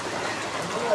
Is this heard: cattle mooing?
no